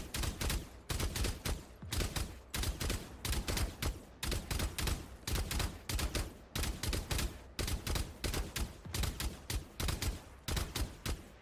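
Rapid automatic gunfire from the shooter game Valorant, fired in short repeated bursts with brief gaps between them, loud and close throughout, with no voices.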